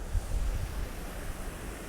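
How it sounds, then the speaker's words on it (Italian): A waterfall near Farnese, Italy, gives off a steady broadband rush of falling water, loud and continuous with a deep low rumble, and no voices. "È molto carina questa cascata"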